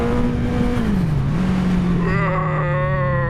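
A sports motorcycle engine drones steadily while riding, its pitch dipping then settling and rising into a higher harmonic whine toward the end, loud and continuous with wind noise.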